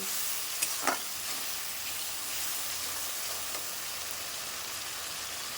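Cabbage sizzles and fries in a hot pan with salt and turmeric, giving a steady, close crackling hiss with a couple of brief louder pops near the start.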